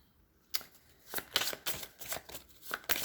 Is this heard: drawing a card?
yes